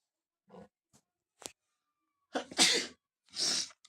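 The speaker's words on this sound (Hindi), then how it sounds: "खांसी भी हो गया ना" Several coughs, a few short quiet hacks followed by two louder, harsher bursts close to the listener, with quiet gaps between.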